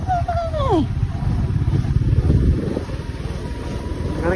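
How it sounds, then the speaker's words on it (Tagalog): A motorcycle engine drones steadily and strains along a road with a hot engine, its low rumble continuous and close under wind buffeting, with a brief whistling sweep near the start. "Reklamo ang motor gani oh."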